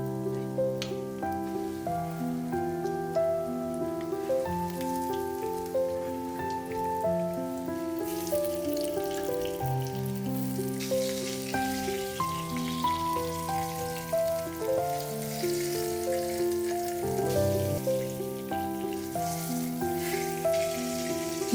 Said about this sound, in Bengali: মিডিয়াম ফ্লেমে কোপ্তাগুলোকে গোল্ডেন ব্রাউন করে ভেজে নেব।